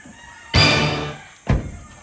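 Chickens and a rooster on a farm give two loud, close bursts of squawking or crowing, the first longer, with a shorter call about a second later.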